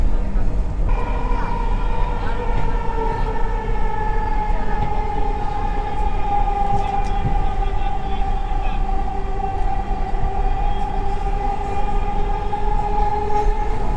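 A Dhaka metro train runs toward Karwan Bazar station, its steady rumble and hum carrying a strong sustained tonal whine that glides slightly, loud and continuous throughout.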